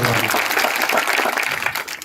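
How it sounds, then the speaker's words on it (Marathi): A crowd at a kirtan gathering claps loudly and steadily, a dense, close wash of hand claps with a voice faintly mixed in. "टाळी वाजवायचा जोरात."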